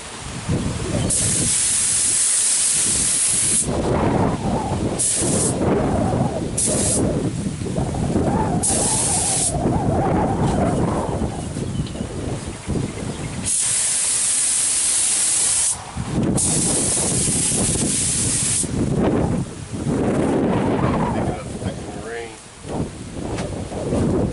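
Spray gun laying a second coat of paint on a car fender: loud, hissing bursts of spray that start and stop in repeated passes, close to the mic.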